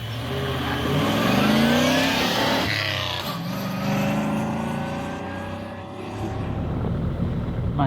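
A diesel engine aboard a ferry on Alaska's Maritime Highway, near and steady, with a deep low rumble and shifting tonal drone that swells and eases under faint background voices.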